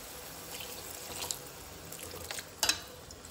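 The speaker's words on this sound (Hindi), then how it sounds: "ऊपर से ना थोड़ा सा पानी डालेंगे" Water pours into a cooking pot of mussels in tomato masala, a soft steady splashing stream with a brief louder gush near the end, heard alone.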